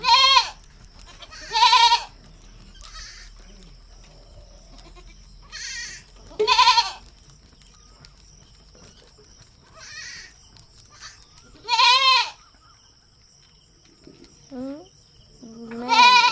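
Goats bleating on a farm, several loud calls spaced irregularly across the clip with quiet gaps between, plus a few fainter bleats toward the end.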